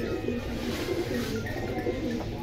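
Pigeons coo continuously at a pigeon market stall in Jinjira bazaar, a soft, low, throaty bubbling that carries on steadily and fairly close throughout.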